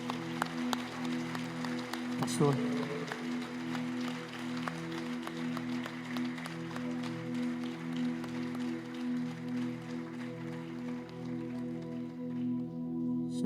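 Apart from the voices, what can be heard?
audience applauding in church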